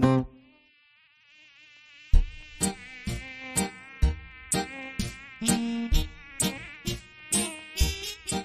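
Mosquito buzzing sound effect in a Russian literary-musical audio play, a thin whining drone that rises after a brief quiet, then carries on over rhythmic music with regular plucked and thumping beats.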